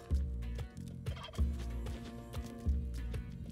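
A turkey in the video game Spelunky 2 gobbles repeatedly, several low, rattling bursts in quick succession at close range over faint game sounds.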